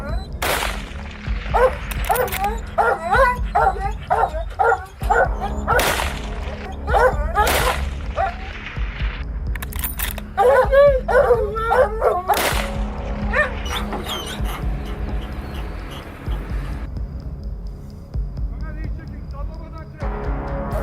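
Hunting dogs bark repeatedly at wild boar in a field setting, with sharp bursts of barking and several loud cracking impacts scattered through, over steady outdoor background noise.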